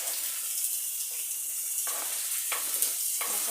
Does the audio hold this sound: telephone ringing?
no